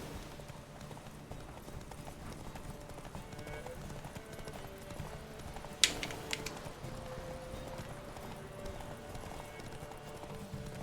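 Roach the horse in The Witcher 3 trots along on steady hooves, a soft, continuous clip-clop under game ambience, with one brighter sharp sound midway.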